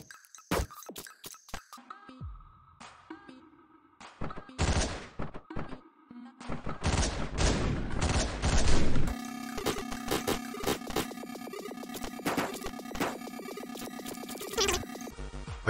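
Gunfire in the top-down video game Hotline Miami, a chaotic burst of sharp shots and rapid bursts layered over loud, dense game music and effects that swell and stay heavy through the second half.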